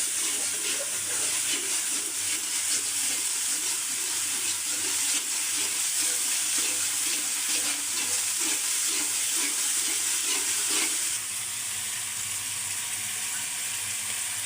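A spice paste with ground coriander and cumin fries in oil for a village-style tilapia and drumstick curry, making a dense, even hiss that is stirred now and then and eases off near the end, with no talk.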